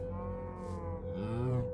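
Minecraft cows mooing, two long low drawn-out moos in a row, fairly close and clear, with no talk.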